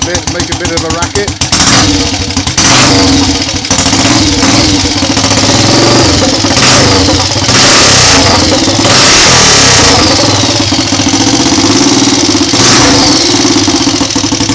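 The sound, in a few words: Triumph Tiger Cub motorcycle engine revving with throttle opened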